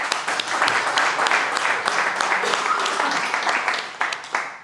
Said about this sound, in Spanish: un fuerte aplauso para Eduardo también